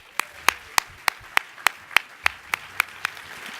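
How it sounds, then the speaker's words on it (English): Hands clapping at a university event honoring the president, with sharp, evenly spaced claps about three per second, like a lone clapper keeping a steady beat in a quiet room. "One more round of applause, please"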